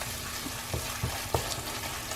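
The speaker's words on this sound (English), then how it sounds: "Give it a good stir." Sauce with Dijon mustard and Worcester sauce is stirred in a pan, with a low sizzle beneath a few quick scraping, knocking strokes of a spoon.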